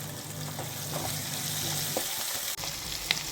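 Onion and capsicum fry in a hot pan for Gobi Manchurian, a steady close sizzle with occasional stirring scrapes and a brief clatter near the end.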